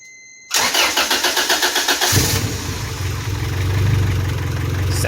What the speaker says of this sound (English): we're just gonna free rev and see what happens